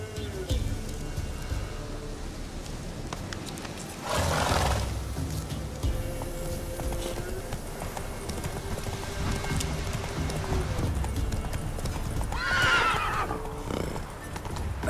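A horse in the video game The Witcher 3 gallops with steady clip-clop hoofbeats and gives two loud whinnies, the first around four seconds in and the second near the end.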